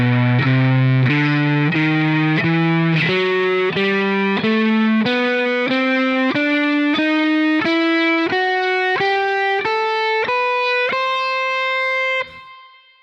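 Overdriven electric guitar plays a blues solo in the Dorian mode, a steady series of single notes climbing gradually in pitch, each picked and sustained, ending with a final note that cuts off.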